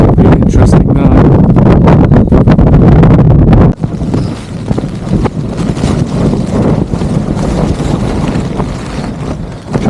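Storm wind buffeting and flapping a tent at a wild camp on a mountain during Storm Betty, a loud continuous roaring rush with heavy gusting and fabric battering close to the microphone.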